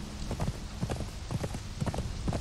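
Horse hooves clip-clop in a quick, steady rhythm in the video game Conan Exiles, close and moderately loud with no talk over them.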